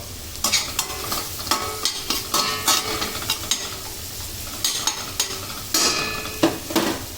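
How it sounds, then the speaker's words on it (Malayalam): Onion, ginger, green chilli and carrot are sautéed in a pan, with a spoon scraping and stirring in quick repeated strokes over a continuous crackling sizzle, close and clear. "നമ്മൾ അരിഞ്ഞു വെച്ചതായ സവാള ഇഞ്ചി പച്ചമുളക് ക്യാരറ്റ് ഇവയൊക്കെ ചേർത്ത് നല്ലോണം ഒന്ന് വയറ്റി കൊടുക്കുക"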